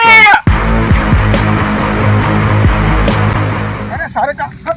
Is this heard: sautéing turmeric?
no